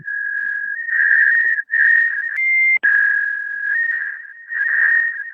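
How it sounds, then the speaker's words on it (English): A warbling radio signal tone in a video game, a steady whistle-like pitch wavering in loudness with a brief higher stepped tone and two sharp dropouts, loud and alone with no talk. "Sorry, I'm getting a funny signal through. You guys hear that?"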